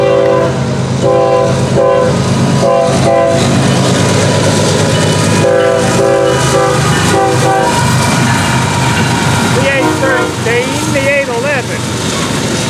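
Freight train on the FEC line with locomotive 813 leading rolls past close and loud, with repeated horn blasts, steady rumble and wheel clatter, and a rising squeal near the end.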